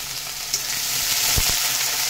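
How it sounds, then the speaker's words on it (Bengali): Chopped onion fries with nigella seeds in hot oil in a kadai, a dense, even sizzle close by, with a couple of soft knocks and no voices. "পেঁয়াজটা হালকা ভাজা ভাজা করে নেব"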